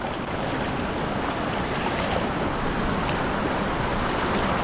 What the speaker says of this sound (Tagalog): Yan no, lakas po ng agos. Yung bato po yung natatangay din.